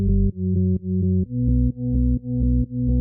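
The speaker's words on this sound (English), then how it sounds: "The bass section sounds like this." Synth bass line for a dance track, sitting low and heavy with a steady pattern of sustained notes broken by short gaps, the pitch stepping up midway, loud and alone with no drums or voices.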